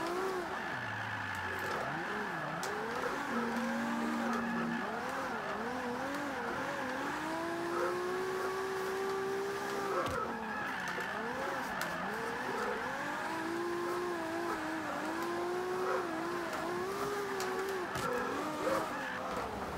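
A Toyota Supra drifting in Forza 5, engine revving up and down in long wavering sweeps with tyres sliding, steady and close with no talk.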